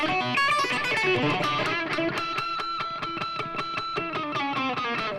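A semi-hollow electric guitar on its bridge pickup is picked in a steady rhythm of bright, ringing notes with squealing pinch harmonics, played fairly loud with a touch of distortion and no talking.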